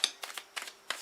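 Tarot cards being shuffled by hand make quick papery riffles and flicks in several short bursts, close and soft.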